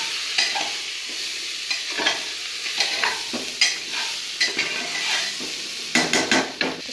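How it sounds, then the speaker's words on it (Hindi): Soaked soybeans being stirred into masala frying in a pan, with steady sizzling under repeated scraping strokes of a spoon against the pan, close and fairly loud, no voices. "इसमें देंगे भिगोया हुआ सोयाबीन, इसको भी मिक्स करेंगे।"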